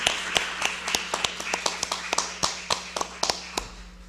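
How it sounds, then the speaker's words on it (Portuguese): Applause for the interviewers at a talk on the history of music teaching in Bagé, Brazil, heard as a steady run of sharp, evenly spaced claps, close and fairly loud, without voices. "Uma salva de palmas, muito obrigado para os entrevistadores."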